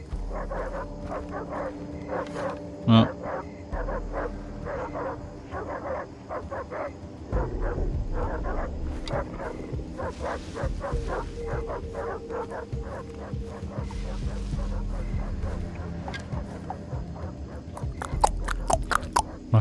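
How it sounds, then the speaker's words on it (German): Several caged dogs in a jungle outpost in Far Cry 3 bark repeatedly in quick, overlapping volleys at mid distance over ambient game sound, with a brief spoken interjection. "Oh ne, nicht wieder Hunde. Aber das sind mehrere und die sind,"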